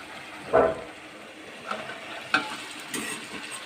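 Bottle gourd pieces with turmeric cook on a low flame, giving a quiet sizzle broken by a few brief scraping stirs of a spoon in the pan.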